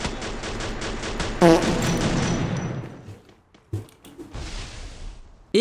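Gunfire in the mobile shooter game Free Fire: a dense rattling burst of shots up front, then scattered single cracks and a late shot after a quieter stretch, with no talking.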